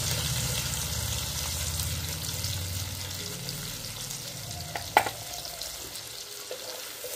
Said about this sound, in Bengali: তেলের মধ্যে আমি পেঁয়াজ কুচি দিয়ে দিলাম।